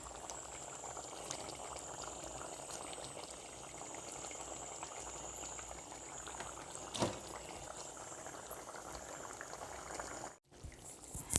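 Chicken curry simmers in a pot on the stove, a soft, continuous bubbling with a few brief louder pops and a short pause near the end.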